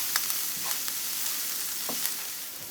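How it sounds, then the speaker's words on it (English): Frittata mixture seasoned with a pinch of cayenne being stirred while it fries, giving a steady close sizzle with a few brief scraping clicks of the utensil and no talking. "Let's give this a stir real quick."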